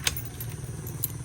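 A bunch of keys jangles in short, bright metallic bursts, two quick clinks a moment apart, with a low engine-like rumble underneath.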